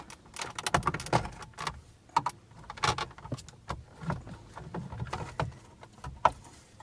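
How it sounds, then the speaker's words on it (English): A screwdriver prying the dash display out of a 2007 Volvo S40, heard as close, irregular plastic clicks, creaks and scrapes in short bursts with brief pauses between them. "Put the screwdriver underneath, pull it out a little bit at a time."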